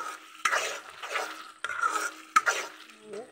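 Fish fries in a pan with cumin, ginger and garlic while a utensil stirs and scrapes in rhythmic strokes, with a few clinks against the pan over a light sizzle.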